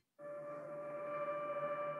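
A steady, sustained synthetic drone pad switches on abruptly and holds evenly, with a slight wavering shimmer toward the end.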